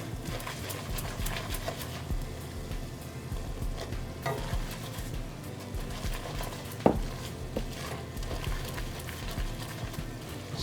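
Roux for a homemade chicken pot pie browns in a pan, giving a steady close sizzle and hiss with occasional scraping clicks as it is stirred.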